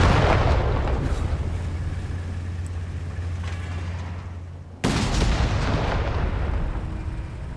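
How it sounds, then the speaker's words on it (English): A 6-pounder anti-tank gun fires in Company of Heroes 3, a sharp, heavy boom partway through cutting over a dense bed of battlefield rumble and distant explosions. "6-pounder anti-tank gun ready. Let's blow it up."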